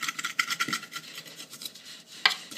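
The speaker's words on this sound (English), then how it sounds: "then just simply turn it out like that and scrape all the bits out of the bowl" Bread dough and mixture bits are scraped out of a bowl, a close, short run of rough rasping strokes with a sharper scrape near the end, and no voices.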